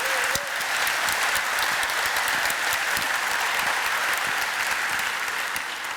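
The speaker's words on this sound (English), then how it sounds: "give Roos extra applause" Sustained audience applause at a health conference, a dense, even wash of many hands clapping with individual claps standing out, steady and continuous throughout.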